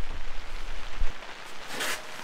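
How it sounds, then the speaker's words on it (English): Rain beginning to fall on an ice fishing shack on a frozen Northern Wisconsin lake, a soft hiss of drops with a few low thumps, fairly quiet and without talk. "it's starting to rain again"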